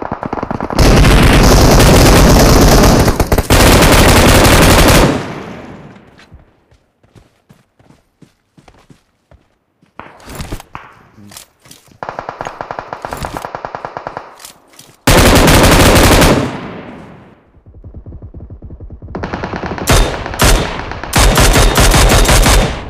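Rapid bursts of Mini 14 rifle fire in a mobile shooter game crackle loudly in repeated volleys, separated by quieter gaps with faint footsteps and distant game sounds.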